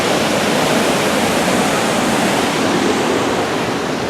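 A steady, loud roar of river water rushing over rocks fills the space without pause, a dense continuous wash with no other sounds standing out.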